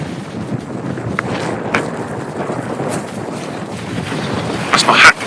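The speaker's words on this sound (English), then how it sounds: "My hat just flew off in the wind." Strong wind blowing at a ship's mooring, with mooring lines running to the vessel: a steady, buffeting rush of wind noise across the microphone, gusting harder near the end, with no clear talk.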